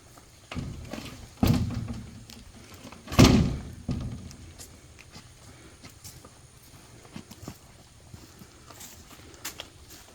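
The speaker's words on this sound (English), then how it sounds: "Just checking the screen door, make sure it opens before I close all this down" A screen door is opened and checked while the ends of a building are closed down ahead of Hurricane Francine, giving a few thuds and one louder knock spaced over several seconds, with faint rattles between.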